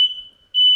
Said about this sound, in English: I just set off the smoke alarm